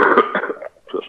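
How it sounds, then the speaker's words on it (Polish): Someone coughs, giving a few harsh, raspy bursts close to the microphone, then a short pause and a softer final burst. "Nie wiem, czy kaszel też, ale zdrowie."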